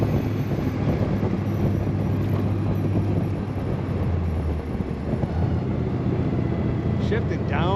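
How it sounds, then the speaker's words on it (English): A 1932 Ford Roadster street rod cruising along, its engine holding a loud, steady drone with road rumble throughout and no clearly distinct gear change. "Shifting down, the clutch and the shifting feels excellent."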